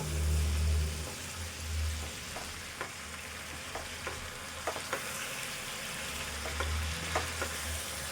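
Cluster beans with soft-cooked tomato sizzle steadily as they fry in a pan, a continuous crackling hiss broken by occasional soft scrapes and light taps from stirring, with a low rumble underneath.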